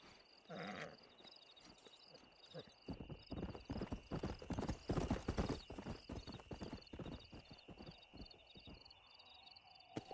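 Horse hooves clip-clopping in the video game Red Dead Redemption, a steady close trotting rhythm with a brief neigh near the start, over a faint high music or ambience bed.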